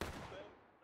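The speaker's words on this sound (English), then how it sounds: "Keep firing, boys." Musket fire in War of Rights, a Civil War battle game: a sharp shot at the start, then a dense roll of overlapping reports and echoing volleys that tails off over less than a second.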